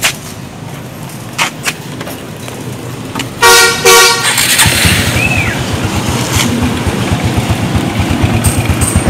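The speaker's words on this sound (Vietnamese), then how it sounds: "mình sẽ nổ máy cho anh chị em cùng nghe" A Honda Future Neo motorcycle gives a short horn toot, then its engine starts and settles into a steady, even idle with a regular low thumping pulse, close and fairly loud, with no talking.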